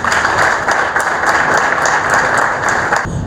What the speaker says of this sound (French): en tout cas, on va les applaudir.